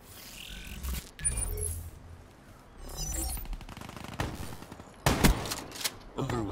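KRM shotgun fire in Call of Duty Black Ops 3, with several loud, close blasts, the heaviest cluster near the end, mixed with rattling weapon handling and other game effects.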